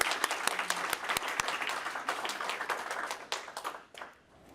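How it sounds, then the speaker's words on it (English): An audience applauds at a library awards ceremony, a dense burst of clapping from many hands that fades out over the last second. Nobody talks over it. "Let's do a little round of applause."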